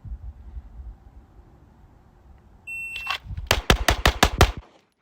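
Six rapid pistol shots from a Glock handgun fitted with a GPT trigger, fired in a quick, evenly spaced string after a brief beep, loud and close, following a quiet lead-in.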